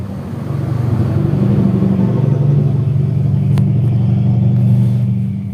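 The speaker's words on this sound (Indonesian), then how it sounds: "Banyak ya mobil truk yang lewat ya." Trucks and cars pass on a nearby road, a loud sustained rumble of engines swelling and holding for several seconds with no talk over it.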